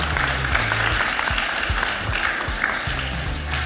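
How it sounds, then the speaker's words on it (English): A conference audience in Lagos gives sustained applause, many hands clapping steadily, with low tonal hum or murmur beneath. "So a round of applause to all of you."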